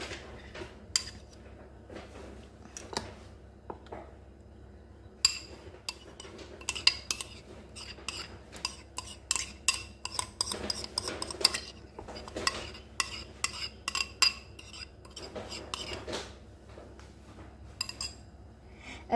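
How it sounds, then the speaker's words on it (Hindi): A chicken-marinade bowl is scraped with a utensil for Afghani chicken, giving repeated close metallic clinks and scrapes in irregular bursts, with no talking. "अब हमने इसको चिकन के मैरिनेशन में डालना है सारा।"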